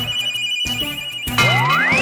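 A phone rings loudly and close for an incoming video call, an electronic ringtone with repeating tones and a rising melodic sweep near the end, heard alone.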